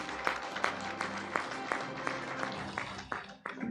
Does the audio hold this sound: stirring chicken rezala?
no